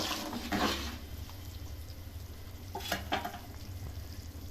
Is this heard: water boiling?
yes